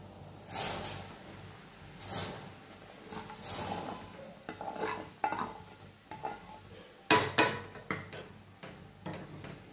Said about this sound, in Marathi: आता आपण याच्यात हे भगर टाकून घेऊ।